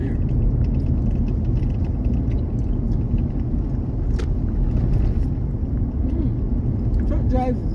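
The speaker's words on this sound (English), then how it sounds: "Truck drives really good." A truck drives along a country road with a steady, loud low rumble that holds evenly throughout, a faint higher tone rising briefly near the end.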